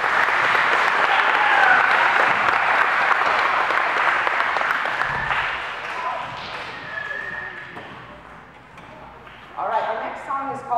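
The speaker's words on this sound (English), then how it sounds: "let's give a round of applause to all of you." At a school music program at Brown Elementary, an audience applauds loudly and steadily, then gradually thins out toward the end before a short new burst of clapping.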